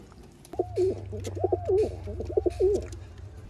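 Pigeons coo in a loft in three rhythmic rolling phrases, close and clear, over a low steady hum with faint background rustling.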